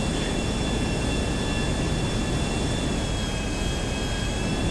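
Steady airplane engine drone from an aircraft flying in the video game GTA V, a continuous broadband roar with a faint high whine, loud and unbroken, with no talk.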